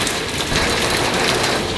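Heavy rain pours down steadily outside an apartment, a dense, even hiss with no breaks that stays loud and close throughout, and no voices are heard.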